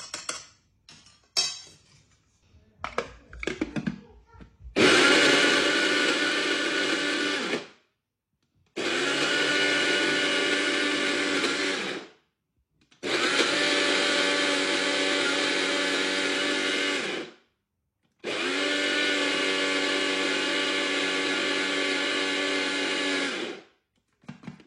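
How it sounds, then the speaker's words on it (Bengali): An electric blender grinds a homemade spice mix into powder in four loud, sustained bursts of whirring, each lasting a few seconds and separated by short silences, after some brief clattering at the start. "যদি মনে হয় যে না আরেকটু ব্লেন্ড করতে হবে, তাহলে একটু নেড়েচেড়ে দিয়ে আর কয়েকবার জাস্ট একটু প্রেস করে 2-3 সেকেন্ড ধরে রাখলেই"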